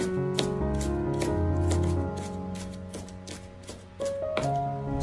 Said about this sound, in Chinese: 片切好以后再改刀剁成蒜末，要剁细一点。